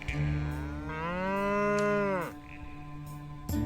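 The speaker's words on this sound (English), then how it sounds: "I tried to get the perfect audio capture of a moo" A dairy cow on a small micro dairy farm gives one long, loud moo that swells and then drops off, followed by quieter field ambience and a brief thump at the end.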